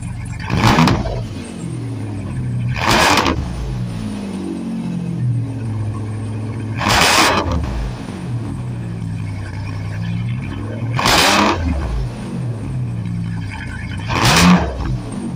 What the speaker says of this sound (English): So I'm going to give it a little rev and I'm going to hear what it sounds like now.